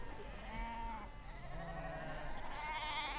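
A large flock of grazing sheep bleats in overlapping, wavering calls, several animals at once at varying distances over a constant outdoor background, with no talking.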